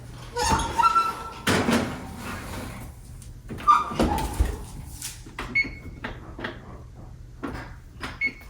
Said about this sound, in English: We're just gonna go ahead and put this in the oven